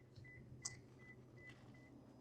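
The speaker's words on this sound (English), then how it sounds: "Beeps at you, and it says in there, key not detected." A 2026 Subaru Solterra EV gives a series of short, quiet electronic beeps at a steady pace over a low background hum after the door shuts with the key not detected, with one brief louder click partway through.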